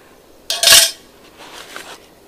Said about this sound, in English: my canteen cup hanger